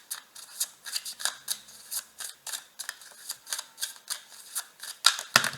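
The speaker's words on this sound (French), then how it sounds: "Il y a toutes les cartes qui sont tombées." Oracle cards fall and slap from a shuffled deck in a quick irregular run of crisp papery clicks and flutters, close and fairly soft, with no talk.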